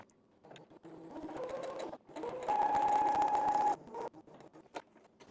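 Domestic sewing machine with an overlock foot zigzag stitching along the fraying edge of a bedsheet: short bursts of rapid mechanical clatter, then a longer steady run of fast stitching with a whirring motor, close up and with no talk.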